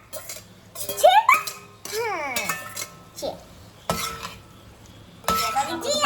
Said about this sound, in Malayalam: അപ്പൊ ഇനി നമുക്ക് ഇതിലേക്ക് അത് മിക്സ് ചെയ്ത് കൊടുക്കാം.